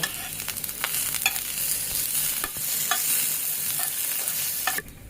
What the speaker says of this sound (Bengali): এখন এটা একটু লাল করে ভেজে নেব